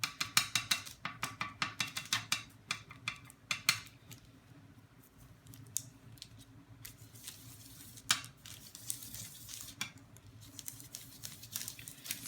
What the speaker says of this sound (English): So what I'm doing is crushing all the colors together so it blends out perfectly.